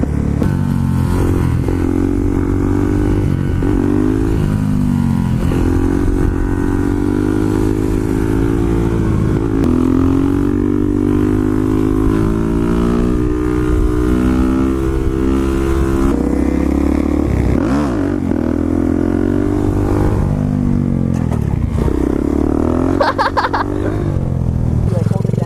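A street-legal 50cc pit bike being ridden, its small engine droning steadily and loudly throughout with shifting revs, while riders talk over the noise.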